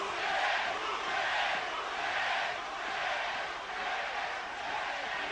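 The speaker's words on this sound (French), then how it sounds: "C'est l'encouragement final de la foule" A large boxing crowd roars with sustained cheering during the Monzón vs Bouttier fight, swelling and easing in broad waves with no break.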